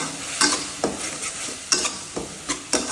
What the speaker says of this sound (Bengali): এবার মশলাটাকে খুব ভালোভাবে কষিয়ে নিতে হবে